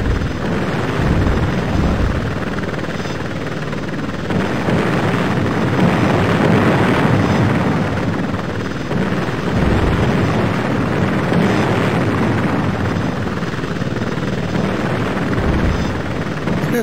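An Apache Longbow helicopter flies in a video game, a steady loud rotor and engine drone running continuously with slight swells in level, no talking.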